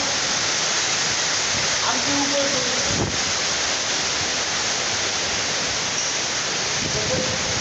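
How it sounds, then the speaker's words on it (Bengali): A hailstorm during a cyclone in Gazipur, heard from high up in a building, roars as a loud, steady wash of pounding precipitation with wind buffeting the microphone and a few faint voices underneath. "শিলাবৃষ্টি শিলাবৃষ্টি"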